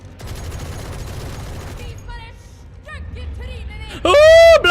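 The Odin machine gun in Valorant fires in a dense, rapid burst for about two seconds, then excited voices shout over the game audio during a match watch party.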